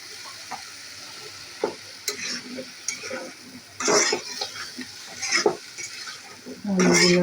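Potatoes sizzle as they are sautéed in a pan before eggplant and lentil dumplings go in. A utensil stirs and scrapes against the pan in irregular strokes over steady frying.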